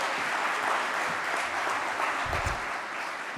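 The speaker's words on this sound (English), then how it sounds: "somebody clapped, I agree" Steady audience applause at a national civics bee championship, a dense, even patter of many hands clapping throughout with no voices over it.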